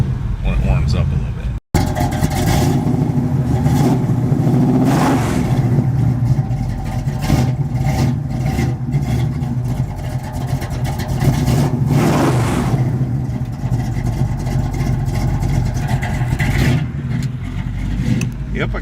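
A VW car engine runs on a cold, icy day, rumbling loudly and revving up and down in repeated surges close by, with a brief cut early on and people talking over it.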